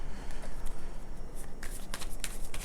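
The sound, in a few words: shuffling a deck of tarot cards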